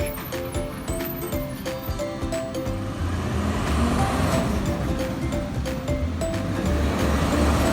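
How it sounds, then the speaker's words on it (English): A garbage truck's engine gives a loud, continuous roar with broad road noise, under light musical tones. "Garbage truck."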